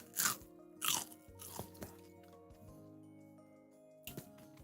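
A crunchy Korean hot dog bitten into up close, with two sharp crisp crunches, quieter chewing and clinking in between, then one more crunch near the end.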